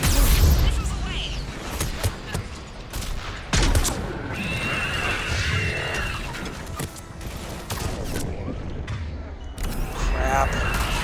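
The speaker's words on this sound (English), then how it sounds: "Missiles away." Missiles launch in the Mass Effect 3 video game as a series of sharp bursts and whooshes, with irregular loud blasts over a busy combat mix. A player talks over the action.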